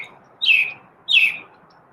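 A pet bird named Chirpy gives two loud, bright chirps about half a second apart, close by and standing out clearly over a quiet background.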